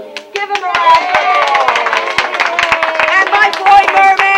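Children at a beach sing-along show clap enthusiastically, with close, uneven hand claps mixed with high young voices calling and cheering throughout.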